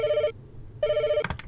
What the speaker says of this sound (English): Oh, I guess I got a phone call.